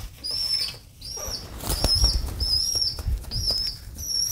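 A bird flaps its wings close by in several short bursts of fluttering, with high thin chirps in between and no talk.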